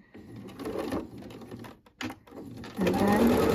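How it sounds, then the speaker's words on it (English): A sewing machine backstitching fabric at the start of a seam on a lined glasses case, short bursts of rapid stitching broken by pauses, then a longer steady run at the end, fairly quiet and close. "Okay, so the first thing I'm going to do, yes, you guessed it, I'm going to backstitch"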